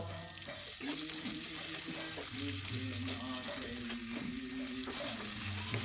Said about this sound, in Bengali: ক্যাপসিকামটা একটু ভেজে নিয়ে তার মধ্যে আমি অ্যাড করে দিচ্ছি টমেটো